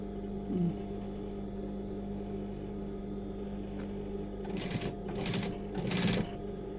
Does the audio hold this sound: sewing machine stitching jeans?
yes